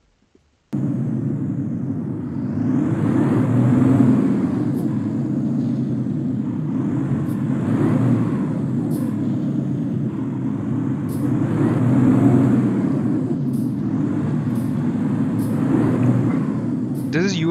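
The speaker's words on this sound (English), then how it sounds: "This is Euro Truck Simulator." A truck drives in Euro Truck Simulator with a steady engine drone and road rumble that starts abruptly and swells and fades in slow waves, with faint periodic clicks, loud and continuous.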